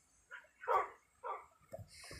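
Dogs in the Minecraft video game bark in short separate yaps, four or five clear barks spaced about half a second apart, close and alone.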